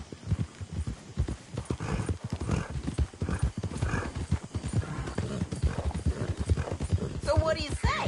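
Horse hooves clip-clop steadily through a Red Dead Redemption 2 game scene, with a horse whinnying and someone talking over the rhythmic hoofbeats.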